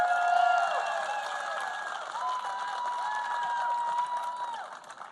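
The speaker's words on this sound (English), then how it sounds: "Give him a round of applause." Crowd applause and some cheering at a political rally on immigration and the border, moderately distant and steady, with tonal sounds running over it.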